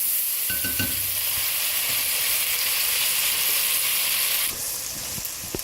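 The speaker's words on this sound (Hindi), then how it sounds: "मसालों के साथ इसको भून रहे हैं हम। तेज़ आंच से भूनने हैं आप बेशक।" Beef masala boti pieces frying with spices in a pan over high heat give a loud, steady sizzle with stirring scrapes throughout, the hiss dropping slightly near the end.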